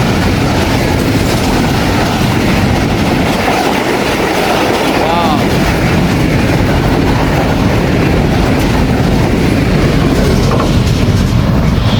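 Shah Hussain Express passenger train rolling past on rails, a steady loud rumble with clickety-clack of wheels and faint wheel squeal, continuous for the whole stretch.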